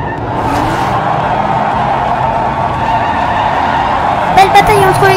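Diecast toy race cars, including a Porsche and a Pininfarina, rolling fast along a racing track in a steady, close rumbling whir, with a few sharp clicks and clatters near the end.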